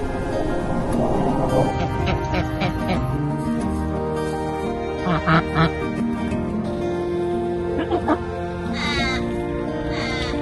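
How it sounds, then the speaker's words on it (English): Several ducks quacking nearby in uneven bursts, some harsh and raspy, with other bird calls mixed in. "They have different types of quacks and they all mean different things."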